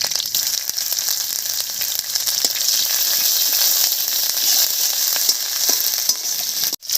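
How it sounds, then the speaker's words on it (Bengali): Panch phoron, black mustard seeds and slit green chillies sizzling in hot oil for a radish dish, a close, loud, continuous crackling fry with faint scattered pops and a brief clatter near the end, and no talking. "তেলের মধ্যে দেব হাফ চামচ মতো পাঁচফোড়ন কালো সর্ষে দুটো চিরা কাঁচা লঙ্কা"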